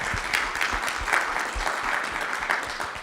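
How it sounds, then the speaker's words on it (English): An audience at a lecture event applauds: a steady, moderately loud wash of many hands clapping from a room full of people, with a few louder individual claps standing out. "A big round of applause."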